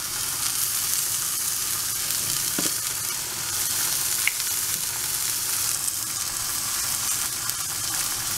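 Asafoetida powder frying in hot oil for pea sundal, a continuous close sizzle with fine crackling and a few small clicks and stirring knocks throughout.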